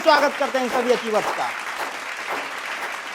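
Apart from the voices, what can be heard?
audience applause for achievers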